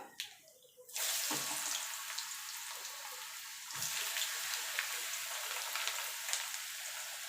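Potato pieces dropped into hot oil tempered with black cumin seeds, a sudden loud burst of sizzling after a quieter start, then steady frying with a second surge as more is stirred in.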